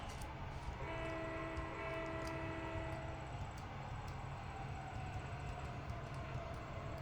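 A train in the simulator game Trainz 2022 rumbles steadily along with clattering wheels while a horn sounds for a couple of seconds near the start; fairly faint overall.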